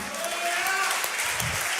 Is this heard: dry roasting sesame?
no